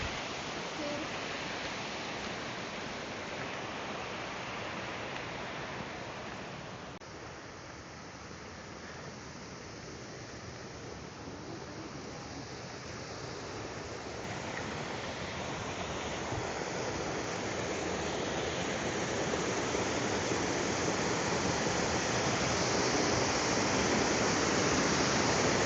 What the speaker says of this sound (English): it's a series of small waterfalls